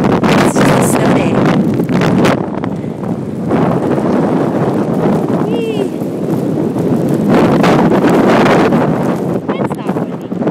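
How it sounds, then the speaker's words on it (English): Strong wind roars steadily across a microphone during a blizzard at a ski resort on a wind advisory day, with loud buffeting throughout and faint voices underneath. "it's a wind advisory, and we almost made it to our second run before they shut the lifts down"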